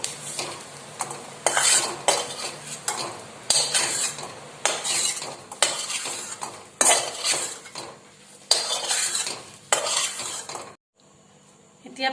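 Fried vegetables for veg Maggie noodles being scraped and stirred out of a pan into a bowl, a steady run of metal utensil scrapes and clinks with a faint sizzle, stopping near the end.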